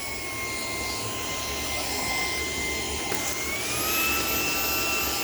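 A Shark PowerDetect IP1251 vacuum cleaner runs steadily with a loud, close whine and airy roar, its pitch rising slightly near the end, with no voices.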